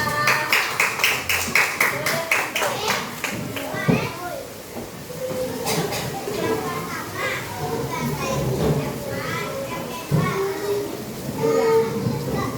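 A second-grade class at an elementary school clapping for a classmate, rapid clustered claps at first, then a mix of children's chatter and scattered clapping with lively kids' voices throughout.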